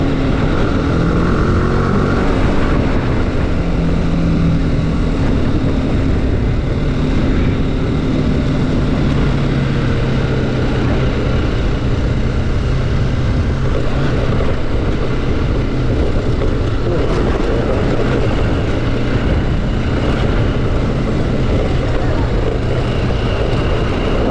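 A motorcycle engine drones loudly and continuously while riding over sandy, potholed ground on the route to Cabo de la Vela, Colombia, with wind buffeting the microphone throughout.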